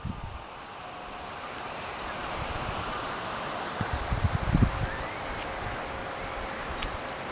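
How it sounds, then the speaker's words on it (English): A mild west wind blows on a winter day through palm trees and nearly 100-foot eucalyptus trees on Salt Spring Island in Canada's southern Gulf Islands, a steady broad rushing of leaves with a brief closer gust midway. "It's a mild wind coming off the west."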